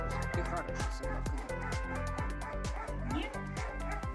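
A large dog at a free veterinary clinic gives a rapid, steady run of loud, close barks and yips, with people talking over them throughout.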